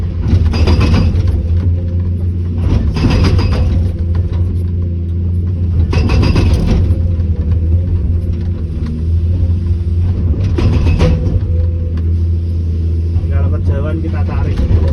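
An excavator engine rumbles steadily, a deep continuous drone that holds close and loud throughout, with people talking over it.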